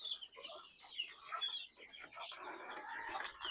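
Free-range country chickens clucking at a backyard poultry farm while larger hens peck at the small chicks, soft scattered calls fairly faint and close.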